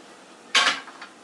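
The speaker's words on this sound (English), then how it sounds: "the fish is ready to go. I'm going to put it in this pan." A snapper fish drops into a cooking pan with a short clattering thud and a brief metallic rattle just after, loud and close against quiet room tone.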